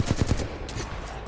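Bursts of automatic gunfire in the shooter game Titanfall 2, a quick rapid rattle of shots up front that thins into scattered, quieter fire, with no voices over it.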